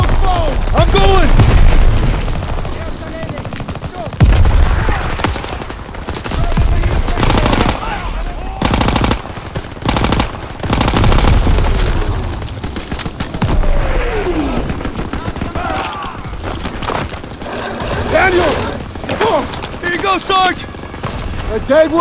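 Dense gunfire and booming explosions in a Call of Duty WWII battle, with bursts of machine-gun fire and heavy blasts running throughout, loud and close, under frequent shouted voices.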